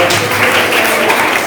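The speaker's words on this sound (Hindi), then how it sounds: "ये सारे बच्चे अपने लिए एक बार ताली बजाएं।" Children at a school health awareness camp clap for themselves, a dense, steady burst of many small hands applauding together in a room, continuous and fairly loud throughout.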